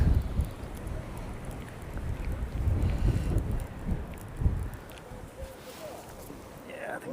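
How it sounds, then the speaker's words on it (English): Wind gusts buffet the microphone at a riverside fishing spot on the Tyne estuary, a heavy low rumble that swells and eases. Someone speaks faintly under it. "Oh, that wind."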